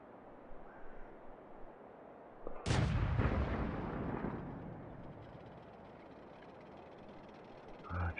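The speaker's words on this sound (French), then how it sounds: "Bienvenue dans l'artillerie." An artillery gun fires in the World of Tanks video game, one heavy booming blast with a long rumbling tail fading over several seconds.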